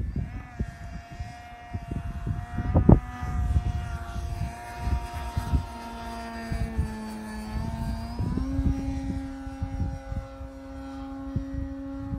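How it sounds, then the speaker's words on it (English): A QQ Cap 232EX radio-controlled airplane flies a low knife edge with a steady propeller and engine whine that shifts pitch as it passes, over scattered outdoor noise and some faint talk. "How about a low knife edge, kind of medium alpha, Kike?"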